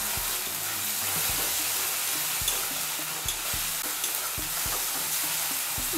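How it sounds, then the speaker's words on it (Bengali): Ginger, garlic and chopped tomato frying in a pan, a constant soft sizzle with regular stirring knocks from a spatula, no voices. "আদা রসুন টমেটো ভেজে নেব।"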